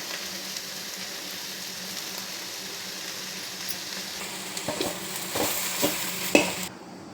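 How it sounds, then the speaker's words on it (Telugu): Drumstick leaves frying with chili powder in a pan, a steady close sizzle that swells toward the end as spoon scrapes and stirring clatters join in. "ఇలా వేయించేసుకొని కొద్దిసేపు వేగినాక కారం పొడి వేసుకోవాలి"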